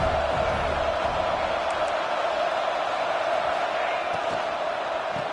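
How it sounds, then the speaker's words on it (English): A football stadium crowd at a Clemson versus ASU game roars in a steady, dense wash of cheering that holds at even loudness throughout. "And the crowd coming to life here, trying to help this defense down in the red zone."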